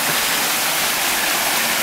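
A small waterfall in a creek near a river, a loud, constant hiss and roar of falling water, close and unbroken.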